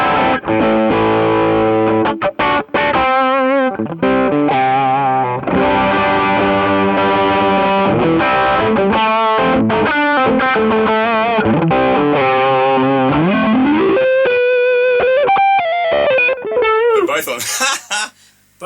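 Electric guitar driven through an overdrive pedal in its distortion mode, a King of Tone style drive, playing saturated chords and single-note lines loudly and continuously for the whole stretch, ending with a brief noisy squeal.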